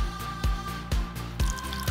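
Water poured into instant snow powder while making a gold cloud slime, heard as a steady series of close, wet drips and small splashes at a regular pace, with no talking.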